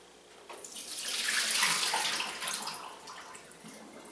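Ice water drained off soaked potato strips for Belgian fries: a rushing, splashing pour that builds, peaks mid-way and eases off, close by and steady with no talk.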